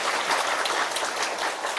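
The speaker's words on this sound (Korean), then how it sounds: "다 같이 격려의 박수 한번 해주시면 감사하겠습니다" A church congregation at a Baptist worship service claps together in sustained, dense applause, many hands at once, steady and fairly close throughout.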